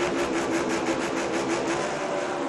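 Martin Truex Jr.'s NASCAR race car does burnouts at Dover, a loud, close, continuous engine roar with rapid pulsing revs and tire squeal, no voices over it.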